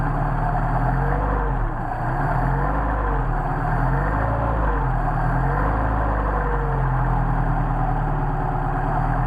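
A Mercedes 190SL engine with a Solex carburetor idles steadily on choke, a continuous low rumble with a slowly wavering rhythm, close and loud, no voices.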